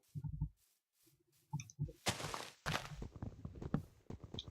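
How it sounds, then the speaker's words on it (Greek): An axe chops wood in Minecraft, heard as a series of short, close clicking knocks in quick bursts, with a steady run of hits in the second half. "Όπως βλέπετε το τσεκούρι κόβει πολύ πιο καλά το ξύλο."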